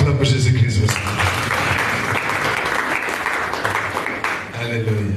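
A church congregation at a prophetic worship service breaks into loud, dense applause that swells for several seconds, with a preacher's voice heard before and after the clapping.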